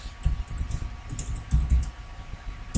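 Typing on a computer keyboard, with light, irregular key taps close by that continue steadily under a low background hum, and no talking.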